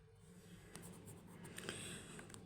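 Quiet, close scratching of a pen or marker as the elements of a set are written on a board, in short strokes over low background hiss with no talk.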